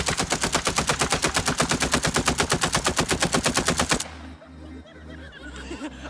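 A rapid burst of gunfire at a family New Year 2020 celebration, shots fired into the ground in a fast, even string for about four seconds, then stopping abruptly, leaving quieter outdoor background.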